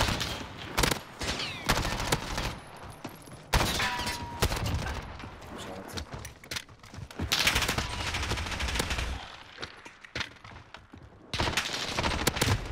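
Gunfire in Call of Duty on Rebirth during a 1v1 fight: repeated bursts of rapid automatic shots in close, loud clusters separated by brief lulls.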